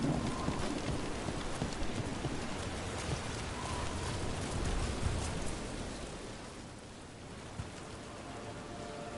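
Steady rain falls in the video game Dragon Age: The Veilguard, a constant wash of close patter that holds at the same level throughout, with a few faint hoof-like clops mixed in and no voices.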